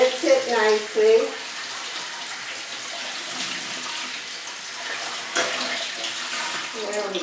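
Rocks rinsed under running water in a sink, a steady rushing tap stream with a brief voice-like sound at the start and a sharper splash partway through.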